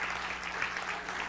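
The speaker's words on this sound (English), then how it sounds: "give them a clap" Congregation applause at a spiritual campus service, a brief, even wash of many hands clapping at moderate distance.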